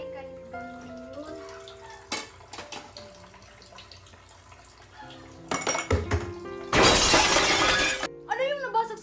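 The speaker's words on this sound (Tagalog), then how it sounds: "Hala, nabasag yung baso." A drinking glass breaks in a home kitchen, a sudden bright crash of shattering glass and tinkling shards near the end, with people talking, dishes clinking and running water around it.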